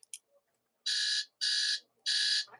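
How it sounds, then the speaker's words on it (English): An alarm goes off at night with three loud, evenly spaced electronic beeps in a quiet room, each lasting about half a second. "why in the hell do I have an alarm set in the middle of the night"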